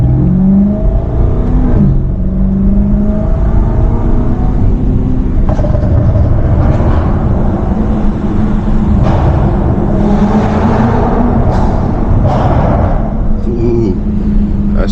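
A 640-horsepower BMW M550i's engine and exhaust drone loudly and continuously from inside the car on a late-night drive, with pitch rising and falling through hard pulls and voices talking over the roar.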